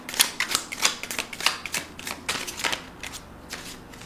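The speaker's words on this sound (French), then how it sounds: "Je vais tirer d'autres cartes." Tarot cards shuffled and drawn by hand, a quick run of crisp riffling and slapping flicks close up, tapering off toward the end with no voice.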